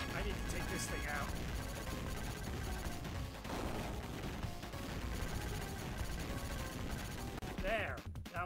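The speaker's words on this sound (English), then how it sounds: "That was actually the right explosion." Explosions and gunfire in the run-and-gun game Contra Hard Corps, with bursts of blasts and shots over busy game music and effects.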